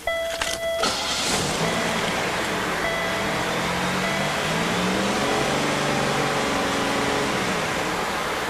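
A Buick 3800 engine is held steady at 2,500 RPM in neutral with the wheels blocked, giving a continuous loud hum after a brief mechanical clatter at the start.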